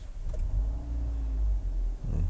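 Engine of a Hyundai Creta 2.0 starting by push button, a low close rumble that settles into a steady idle, preceded by a faint click.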